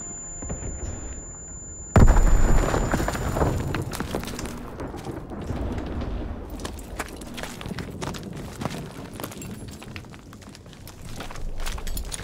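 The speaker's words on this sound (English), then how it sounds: "Throwing a grenade." A grenade blast in Call of Duty: WWII bursts out loud and close with a sharp low-heavy boom, followed by a long stretch of battle noise: scattered gunfire, debris and movement rolling on under the mix.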